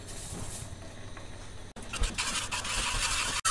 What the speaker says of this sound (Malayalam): ഇനി അതിലേക്ക് നമുക്ക് ഈ വറുത്ത് വെച്ച സേമിയ ചേർക്കാം